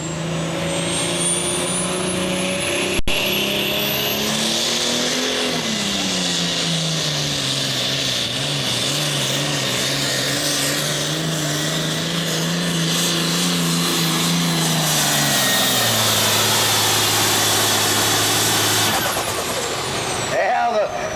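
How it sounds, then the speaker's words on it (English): Big John Deere tractor in a super farm tractor pull at the 2003 Badger State Midwest Summer Nationals, its engine roaring loud and sustained with shifting pitch as it pulls, under an announcer's commentary. "The big John Deere had the torque and the power once the old weight box come down on him"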